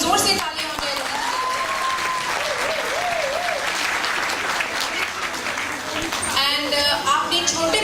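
An audience at a Holi evening program in a Hindu temple hall claps loudly and steadily for several seconds, a dense wash of applause, with a voice and some vocal sounds riding over it.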